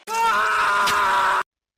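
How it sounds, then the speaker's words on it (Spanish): One scream in a dramatized horror story, a single drawn-out, tonal cry lasting over a second that ends abruptly in silence. "todos los presentes habían escuchado un grito a lo lejos"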